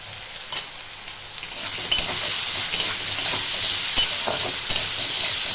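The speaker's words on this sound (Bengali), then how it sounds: "এইটাও আমি মিডিয়াম টু লো ফ্লেমে এটা আমি ভাজবো" Okra and potatoes fry over medium-low flame in a Bengali kitchen, producing a loud, continuous hissing sizzle with occasional stirring scrapes and no voices.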